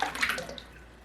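Liquid soap base pours into a container during soap making, a short wet splashing gush up close that fades quickly.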